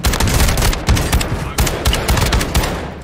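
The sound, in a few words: shotgun fire in a video game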